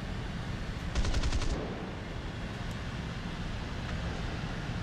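Short burst of rapid machine gun fire in the War Thunder flight simulator, a quick rattling volley of about a second over steady engine and wind noise, fairly distant, with no talk.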